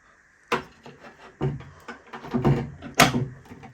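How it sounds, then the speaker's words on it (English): Small wooden duck hatch doors on a narrowboat knocking and clattering as they swing open, a few sharp thuds and creaks spread over a few seconds, close by and moderately loud. "So those doors just swing open"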